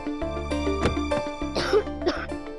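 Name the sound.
woman coughing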